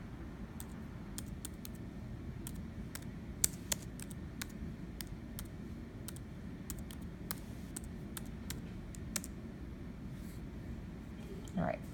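Typing on a computer keyboard, scattered light key clicks at irregular intervals, faint and close, over a steady low background hum.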